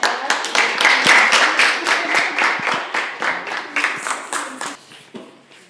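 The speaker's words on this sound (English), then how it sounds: "Please, let's all clap for her." An audience claps for a former student association president at a Sabbath gathering of a girls' school fellowship in Kumasi, a dense run of handclaps that swells early and thins toward the end, with some voices mixed in.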